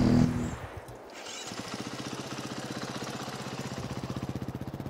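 A motocross bike engine in a video game cuts out, then restarts and settles into a steady, pulsing idle that grows slightly rougher toward the end, heard alone and fairly close.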